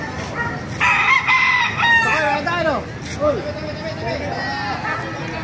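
Several roosters crow in overlapping calls at a poultry market in Baliuag, with clucking hens and someone talking throughout.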